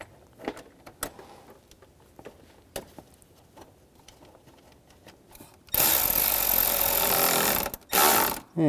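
On a 2011-2019 Ford Explorer, the radiator dual cooling fan assembly bolts are snugged down with a power tool, a few light clicks first, then a loud, close, sustained whirring run that breaks off briefly and returns.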